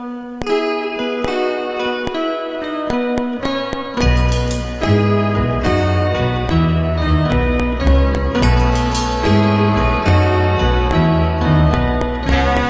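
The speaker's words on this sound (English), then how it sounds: "I have set it up to have the exact same piece of music" The intro to a song plays over a steady dotted-quarter click. Sustained chords come first, then a full band with a deep bass line and regular percussive ticks cutting through throughout.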